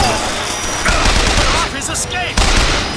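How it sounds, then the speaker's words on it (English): A machine gun fires in the video game Bioshock Infinite, a loud, sustained burst of rapid automatic gunfire that pounds almost continuously throughout. "Switch the machine gun."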